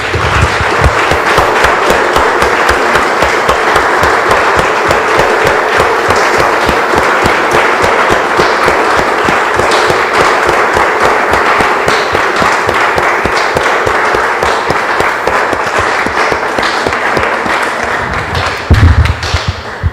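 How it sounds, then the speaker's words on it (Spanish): A church congregation claps together in a loud, steady rhythmic applause, dense and sustained, easing slightly toward the end. "Damos un aplauso, hermanos, al Señor."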